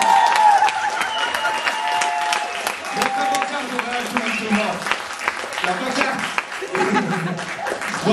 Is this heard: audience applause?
yes